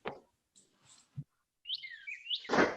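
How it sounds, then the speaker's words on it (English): Birds chirp faintly in the background during an adult boxing and stretching class. A few short, scattered tweets and whistles come and go over near silence, with no talk. "The birds are singing now."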